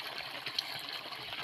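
Clean water running from a village water source, a soft continuous gushing stream, faint and steady with no talk.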